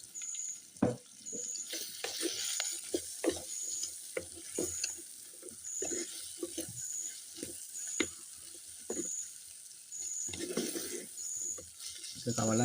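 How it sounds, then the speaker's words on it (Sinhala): A little water goes into long beans frying in a pan, and a steady sizzle and hiss runs under scattered clinks and stirring, close and moderate in level, while a faint voice is heard now and then. "මේකට වතුර පොඩ්ඩක් දාලා ගමු."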